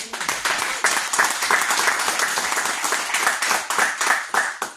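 A church congregation claps in praise during a theological seminary study session, a loud, rhythmic round of many hands beating together in a steady pulse that fades slightly at the end.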